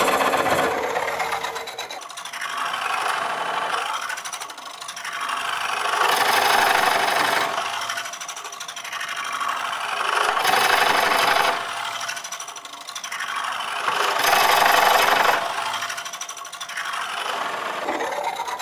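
A Woodcut Bowlsaver coring tool cuts into a spinning bowl blank on a wood lathe, making a rasping, scraping hiss that swells and fades in slow repeated waves as the cut progresses, loud and close, with no talking.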